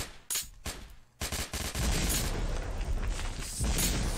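Grenades explode in a video game, Masked Shooter 2, as a few sharp early blasts give way to a dense, loud, sustained roar of overlapping booms.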